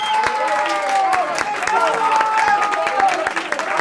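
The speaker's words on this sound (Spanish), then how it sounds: "que se oiga ese aplauso" Audience clapping at a Halloween costume contest, sharp claps scattered through a crowd, with overlapping voices and chatter running over the top throughout.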